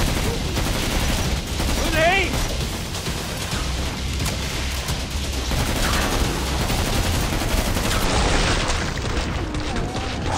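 Rapid gunfire and booms in the video game Killing Floor 2, dense continuous bursts of shots layered with explosions, loud and busy throughout, with excited voices talking over the action.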